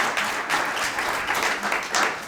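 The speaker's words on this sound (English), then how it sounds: "Quick round of applause for getting through all of" A seated audience breaks into brief, steady clapping, a dense wash of hand claps that stays even throughout and ends with a slight fade.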